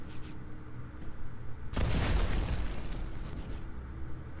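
A bomb blast in the video game Heroes of Loot 2 bursts out as a single sudden, loud boom partway through, followed by a rumbling decay over quieter game ambience.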